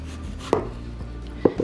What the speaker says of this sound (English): So I cut it real thin.